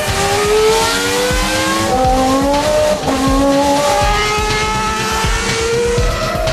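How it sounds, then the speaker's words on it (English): A Formula 1 race car roars past at full throttle, its engine note rising and falling in loud sustained sweeps while the tires squeal, all heard up close and continuously without any voices. "In just a handful of seconds, an F1 car accelerates to the kinds of speeds at which a jet aircraft takes off."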